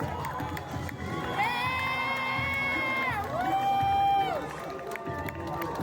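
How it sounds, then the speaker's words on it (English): Wrestling fans at a Hurricane Pro Wrestling show cheer loudly for their cruiserweight women's champion, a dense crowd roar with shouts and a sustained whoop rising over the noise. "Fans cheer for their champion"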